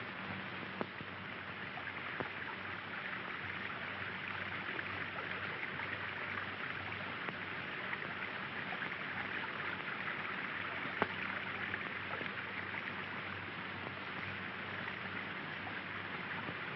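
Water flowing steadily along an old creek bed, a constant broadband rush with no breaks, fairly quiet and even throughout, no voices.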